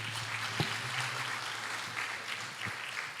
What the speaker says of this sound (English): Let's give Mr. George a good clap.